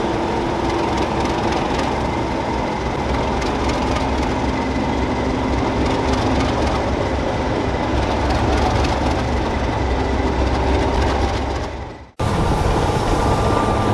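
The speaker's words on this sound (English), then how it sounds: "Also known as English Electric Type 3, some people nickname the Class 37s as tractors because of their so-called agricultural" A British Rail Class 37 diesel locomotive, the English Electric Type 3, runs with a steady, loud, gritty engine roar for about twelve seconds. The sound cuts off abruptly, then a similar noise resumes at the end.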